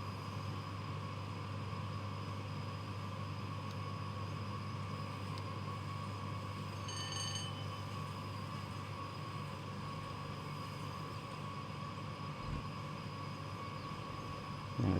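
A long freight train hauling goods toward Preston in Train Sim World 6 rolls along with a steady low rumble and hum, holding at an even level for the whole stretch; a faint high ringing tone shows up briefly midway and a small knock comes near the end.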